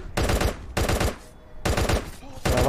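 Machine gun fire in the mobile shooter Guns of Boom comes in four dense, loud bursts of rapid shots, separated by short pauses.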